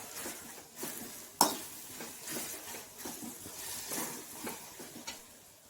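A soft, steady sizzle of tomatoes and curry leaves frying in a pan, with scraping stirs and an occasional sharp clink of a utensil against the pan.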